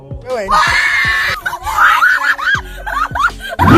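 A girl screams loudly and repeatedly while being chased by a duck, the shrill cries rising and falling in several bursts with breathless gasps and a giggle between them.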